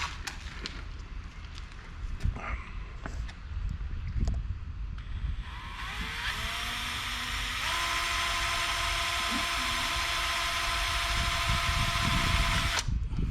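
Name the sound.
power drill drilling through metal channel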